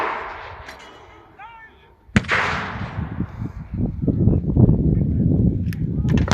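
Heavy artillery fire at a WW2 re-enactment on a farm field: a sharp, loud blast booms out after a quiet lull, then a long rumbling roar with scattered crackles follows.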